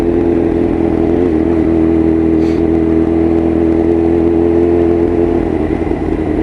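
A 125cc motorcycle ridden solo gives a loud, steady engine drone with a constant low hum and wind rush, close up and unbroken throughout, with no talking.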